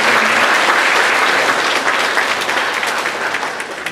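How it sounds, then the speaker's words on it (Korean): Church congregation applauding to welcome new members during a worship service; loud, close, dense clapping that holds steady and then gradually thins and fades toward the end. "우리 다 같이 박수로 환영합시다"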